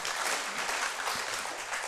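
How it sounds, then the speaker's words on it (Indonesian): Congregation applause at a Sunday church service, a dense, continuous wash of clapping from a large crowd, loud and even throughout the short stretch. "Tepuk tangan buat Tuhan kita yang luar biasa."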